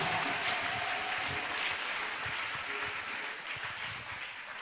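A church congregation bursts into sustained applause as an offering of acclamation, a steady wash of many hands clapping at moderate distance that holds throughout with no voices standing out.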